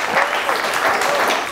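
Studio audience on a Georgian late-night TV talk show breaks into steady, dense applause that fills the whole moment at an even, fairly close level.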